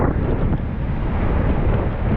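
During Hurricane Nicole in Volusia County, Florida, waves crash over a seawall in strong wind, a loud, continuous roaring wash of surf and buffeting wind across the mic, with no voices.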